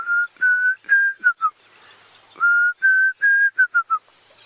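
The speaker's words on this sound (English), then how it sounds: "There's a Diedrich cuckoo calling behind us." A Diederik cuckoo calls on an African safari sunrise drive, two clear runs of rising whistled notes that quicken and drop in pitch at the end, heard at moderate distance in otherwise quiet morning air.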